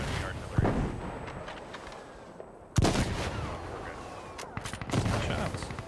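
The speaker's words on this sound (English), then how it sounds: "Those are not friendly artillery." Artillery fire in the game Insurgency Sandstorm booms as sharp, heavy blasts at irregular intervals, one especially loud impact standing out mid-way over a rumbling battlefield background.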